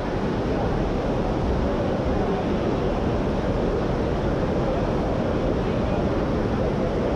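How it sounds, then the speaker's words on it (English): Rain pours steadily outside an exhibition building at the 2020 Miami International Boat Show, a dense, even hiss that stays at a constant level throughout without breaks. "that noise you're hearing, that's the rain"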